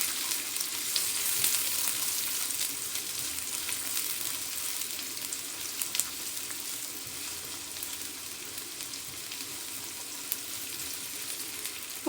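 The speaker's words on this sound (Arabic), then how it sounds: "نبدأ بقى نشوح البصلاية دي" Onion sautéing in oil and melted ghee in a single cooking pot, a steady close sizzle and crackle holding evenly throughout with no voices.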